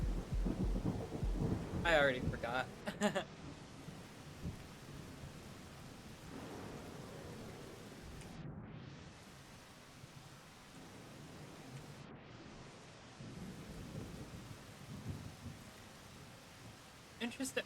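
Heavy, torrential rain hisses steadily in the Rain World video game, with a loud rumbling crash of thunder near the start and a brief voice speaking over it.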